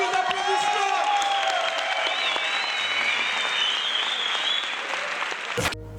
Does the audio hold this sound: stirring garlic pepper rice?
no